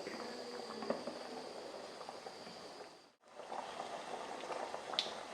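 Thick jackfruit halwa (chakka varattiyathu) cooks in a pan while being stirred, giving faint, steady bubbling and soft scraping throughout, with a brief lull near the middle.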